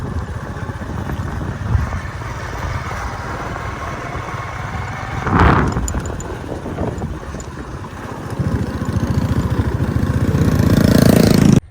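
A tractor engine runs steadily at a village mud-house building site, a continuous low rumble with a brief louder swell midway and a gradual build toward the end, as if drawing nearer.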